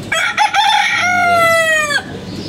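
A farmyard rooster crows one long, loud, close call with a rising start and a sustained drawn-out tail, standing alone with no talk.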